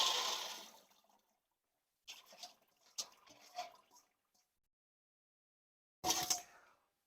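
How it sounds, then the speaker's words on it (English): Wet-processed coffee and water are poured through a colander, splashing in a few bursts, with a short trickling stretch, then a final loud gush that drains away. "we're just going to use a colander for this, pour the water through, pour everything through"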